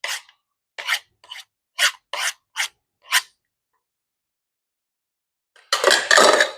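A utensil scraping food off a surface while making stuffed jalapenos, six or seven short, close rasping strokes in an uneven rhythm, then a pause and a louder, longer scrape at the end.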